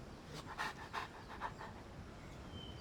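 A ninja dog in Genshin Impact pants in a quiet run of about five rhythmic breaths, soft and close over a faint hiss, with no speech.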